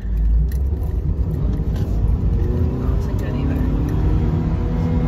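A manual-transmission car engine revs high to around 5,000 RPM during a first attempt at driving stick shift, a loud, steady, close low rumble with a slowly rising tone, while people talk over it.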